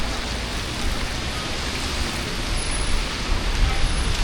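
Heavy rain pours down on a street in Jiefangbei, a steady dense hiss with faint traffic rumble underneath, continuous and close.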